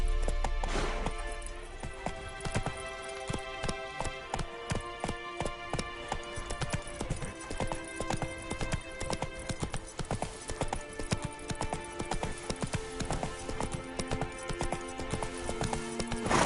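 Horse hooves clip-clop in a steady galloping rhythm through The Witcher 3 game world, close and continuous with faint music and ambience beneath, the horse snorting near the start.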